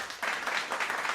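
A few people on a live sports talk show clap together, and the brief patter starts abruptly and holds steady at moderate loudness.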